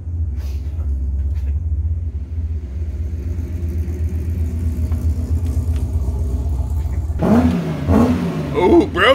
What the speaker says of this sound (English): Fastback Mustang?